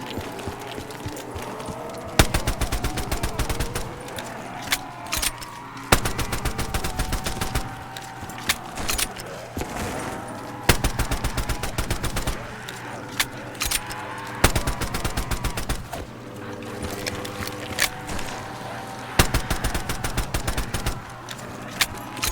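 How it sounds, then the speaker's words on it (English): Rapid bursts of minigun fire in Black Ops 3 custom Zombies on the Haltow Farms map, loud dense rattling volleys repeating every few seconds amid game noise, with little or no talk. "And we got a nice old style minigun,"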